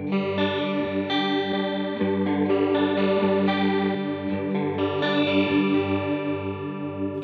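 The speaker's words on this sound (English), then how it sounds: "when we change that to the triangle shape and then compare that to the plastic chorus" Electric guitar through a Line 6 Helix plastic chorus effect set to a triangle wave shape, strummed chords with a shimmering, wavering modulation and some grit, sustained continuously and close.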